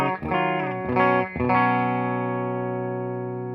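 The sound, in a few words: electric guitar clean tone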